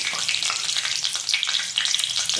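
Two bay leaves hit hot oil in a pan for moong dal with a fish head, giving a steady, bright crackling sizzle up close, with a few louder spits and pops.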